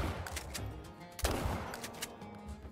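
A Couso 16ga shotgun fired at willow ptarmigan while hunting in the game Call of the Wild, a single sharp blast at mid-clip standing out over a faint, soft background.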